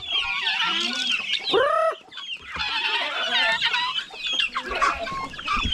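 Young backyard chickens, first-generation hens close to laying, cluck and squawk near the microphone in a busy, overlapping flock chorus that runs continuously without talk.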